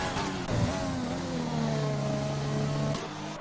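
A Renault Formula 1 car's engine in an F1 racing game at Bahrain qualifying drones steadily nearby, its pitch sliding down and holding before the car pulls away, with no voices.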